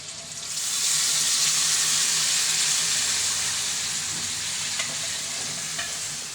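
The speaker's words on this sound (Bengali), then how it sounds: "মাংসটা কষানো হয়ে গেছে, এখন জল দিয়ে দিব।" Meat that has been fried down in oil sizzles steadily in a pan as water is added and stirred, a loud continuous hiss with faint scraping, no voices.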